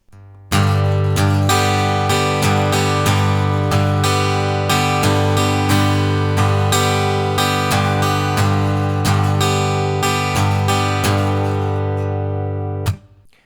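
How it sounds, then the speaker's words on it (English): Guitar strummed with tense, robotic, sharp stabbing strokes, loud and even with no dynamics, a steady run of hard chord hits for about twelve seconds before an abrupt stop. "This first strum is going to be very tense, very robotic."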